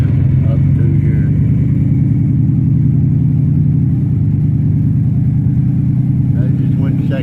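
A vehicle drives in second gear, breaking tracks, with a loud, steady engine rumble close by that holds throughout without letting up.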